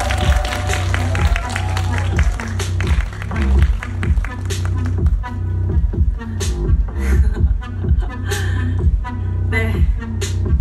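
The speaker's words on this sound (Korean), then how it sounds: "큰 박수 부탁드립니다." A theatre audience at a Korean screening event for the series Weak Hero applauds as the director and cast walk onto the stage. The clapping is loud and sustained, with a host's amplified voice and music over it.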